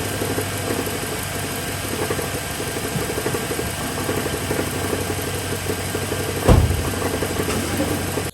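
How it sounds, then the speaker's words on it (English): An idling V8 with an AFM/DOD fault runs slightly rough with a steady mechanical rattle, suspected bad rod bearing, heard close up with a single sharp knock near the end. "I'll insert a clip here of what that rattle sounded like."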